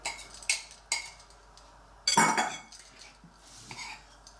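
Almond powder and powdered sugar stirred together in a bowl, with a few sharp clinks of a utensil against the bowl followed by a longer scraping stir, moderately close and otherwise quiet.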